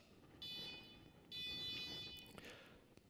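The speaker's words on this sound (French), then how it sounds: "Lorsqu'il y a une touche, lorsque le fil est tiré, le détecteur bip comme ça." Two high electronic beeping tones from a carp-fishing bite alarm, triggered when the line is pulled, sound in short bursts, each lasting about a second, over faint background rumble.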